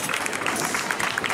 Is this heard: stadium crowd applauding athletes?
yes